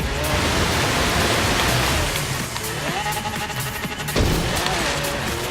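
A Lamborghini LM002 off-roader in the racing game Forza Horizon 3 ploughs through water, making a loud, continuous rushing splash with engine noise underneath that briefly dips before surging again.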